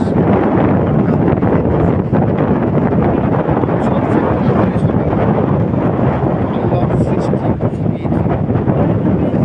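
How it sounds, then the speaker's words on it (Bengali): Strong cool sea wind at Guliakhali beach in Sitakunda, Bangladesh, buffets the microphone in a loud, steady, rumbling roar with no pause. "সাগরের হাওয়া একটু ঠান্ডা বাতাস"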